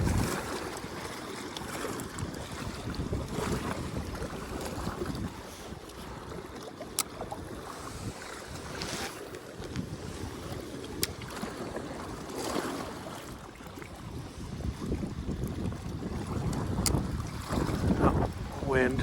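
Wind gusts across the open water at Caples Lake, a steady broadband rush of wind buffeting the microphone, rising and falling in strength throughout, with faint lapping water beneath.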